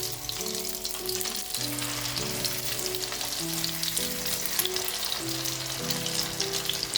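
Food frying in butter in a pan, a steady close sizzle and crackle that runs unbroken throughout, with faint tonal background music underneath and no talk.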